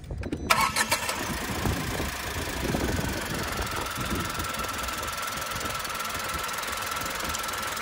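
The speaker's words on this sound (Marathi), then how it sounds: "पण तरी देखील तुम्हाला मी आता गाडी इंजिन नॉईस दाखवतो." A 2024 Tata Altroz XZ CNG with a 3-cylinder engine cranks and fires after a short pause, then settles into a steady, close idle hum that carries on alone.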